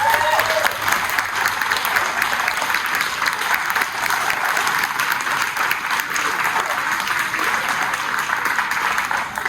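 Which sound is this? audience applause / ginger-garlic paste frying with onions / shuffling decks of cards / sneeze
audience applause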